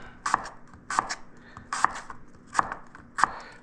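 A knife slices through red apples on a cutting board for Spicy Apple Etouffee, with five crisp, evenly spaced cuts, each a sharp close thunk followed by a brief crunch, and no talking.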